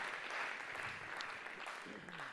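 A church congregation applauds and cheers to honour an apostle, a dense, steady wash of clapping from a sizeable crowd that continues evenly throughout, with faint voices mixed in.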